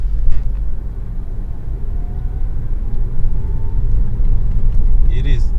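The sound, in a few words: Toyota Avensis 2.0 VVTi car driving, interior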